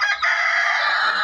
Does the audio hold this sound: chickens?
yes